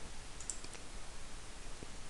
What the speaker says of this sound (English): I can amalgamate these two tabs by clicking on this tab here